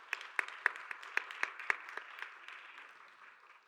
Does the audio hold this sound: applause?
yes